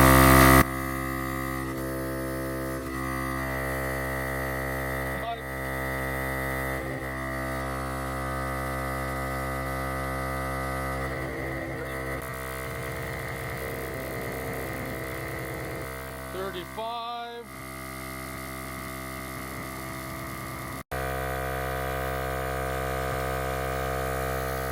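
A VIAIR 88P portable 12-volt air compressor runs steadily with a loud, even electric motor hum. A brief dip in the sound comes near the end before the running resumes.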